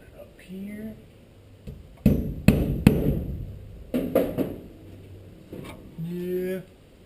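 Several sharp hammer strikes while a garage is being cleaned, loud close bangs in a short irregular burst, with people talking before and after.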